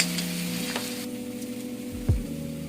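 Duck meat goes into hot frying masala for an Assamese duck and ash gourd curry, with a steady close sizzle and a sharp burst of frying as the meat hits the pan.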